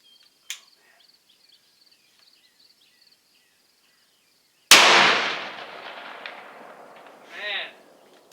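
A .416 Ruger rifle fires once into two large logs: a single loud, sharp blast with a broad noisy tail that rings out for a few seconds, preceded by near silence with a faint click.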